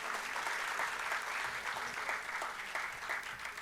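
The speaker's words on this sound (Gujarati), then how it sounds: "એટલે પણ આપણે એમને તાળીઓના ગડગડાટથી વધાવી લેવા જોઈએ" Applause from the audience welcomes a doctor at a book launch event, steady and moderately distant, continuous for a few seconds.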